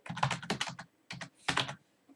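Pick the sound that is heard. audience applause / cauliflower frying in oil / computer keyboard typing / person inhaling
computer keyboard typing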